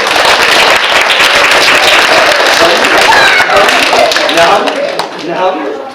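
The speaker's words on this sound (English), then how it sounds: "Give her a big round of applause." An audience claps in a lively burst of applause at an animal show, loud and dense at first, then thinning and fading toward the end, with voices mixed in.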